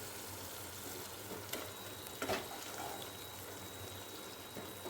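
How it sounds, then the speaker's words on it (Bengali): Chopped tomato fries and is stirred into spice paste for a Bengali fish curry, a steady soft sizzle with a couple of brief scraping clatters from the stirring. "এবার টমেটোটা দিয়ে ভালোভাবে নাড়িয়ে নেব।"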